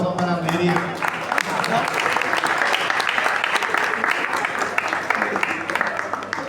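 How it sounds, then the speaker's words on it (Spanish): Applause rings out from a seated audience at a Spanish-language poetry reading, a dense, steady clatter of many hands that holds for several seconds at fairly loud level and tapers slightly near the end. "Por favor, le pueden dar un aplauso para Mary."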